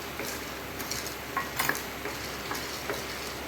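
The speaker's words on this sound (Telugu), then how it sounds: "గమ్ అనేది ఇందులో వేసుకొని వేయించుకోవాలి. ఇది స్లో ఫ్లేమ్లో పెట్టి వేయించాలండి." Edible gum frying in a pan over a low flame: a soft, steady sizzle and crackle with faint stirring clinks and a few small pops.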